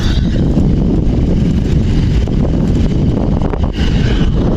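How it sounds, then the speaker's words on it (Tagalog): Loud, constant wind roars and buffets across the microphone throughout, a dense rumbling rush with no speech: a strong headwind on the uphill road toward Tagaytay. "malakas pang hangin pasalubong sa atin"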